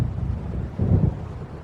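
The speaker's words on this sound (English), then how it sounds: "It seems there's a storm coming." Thunder from an approaching storm in the video game Alan Wake Remastered: a low, heavy rumble that swells briefly, amid steady wind-like noise, with no talking.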